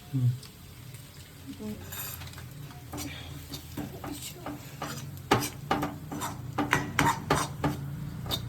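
Food being stirred in a pot in a home kitchen, a run of metallic scraping and clinking strokes from a spoon against the pot that grows busier and louder toward the end, with some talk in the background.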